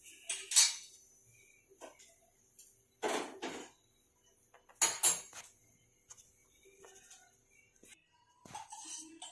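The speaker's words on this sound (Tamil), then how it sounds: "இப்போ நான் வறுத்த பொருட்கள்லாம் தனியாக எடுத்து இன்னொரு பவுலில் மாற்றி வச்சுட்டேன்" Roasted lentils and coriander are moved from a pan into another bowl: a few sharp metallic scrapes and clinks of a spoon, close and separated by quiet pauses.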